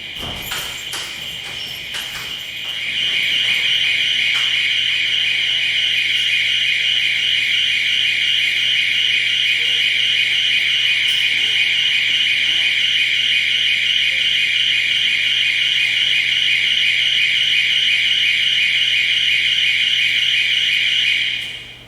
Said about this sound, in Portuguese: Um alarme de incêndio, né?